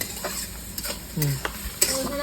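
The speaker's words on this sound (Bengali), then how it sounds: "এক চামচ লবণ দিয়ে দেবো যাতে তাড়াতাড়ি পেঁয়াজগুলো ভাজা হয়ে যায়" Onions sizzle gently with salt in a pan while a utensil scrapes and stirs in a few short strokes, fairly close and steady.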